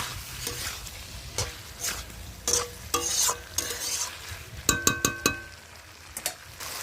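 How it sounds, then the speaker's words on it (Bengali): A rohu and small-fish curry with tomatoes is stirred and fried in a pan, with a spatula scraping repeatedly over steady sizzling, then a quick run of sharp metallic clinks against the pan, close and clear. "তো একসাথে আমি এটাকে ভালো করে কষিয়ে নেব।"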